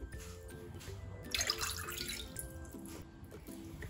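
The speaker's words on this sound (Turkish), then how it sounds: "Öncelikle oda ısısında 2 su bardağı 200 milimlik 2 su bardağı su" Two 200 ml glasses of room-temperature water poured into a bowl for unyeasted flour, water and salt dough, a short, soft splash that swells briefly in the middle over a quiet background.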